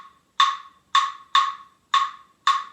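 A tresillo rhythm knocked out on a Cuban clave, five sharp, bright wooden clicks in an uneven three-plus-three-plus-two pattern, close and alone.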